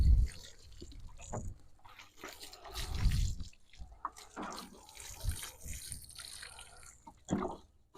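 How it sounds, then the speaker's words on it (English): Water splashes and trickles irregularly onto soil and newly planted tomato plants in a backyard garden, with uneven pouring bursts and drips, fairly quiet and close by. "We'll just water these in pretty good."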